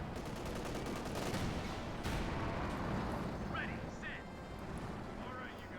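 Battle noise from Company of Heroes 2, with tank cannon and gunfire shots booming amid a continuous rumbling wartime din, with a voice talking over it.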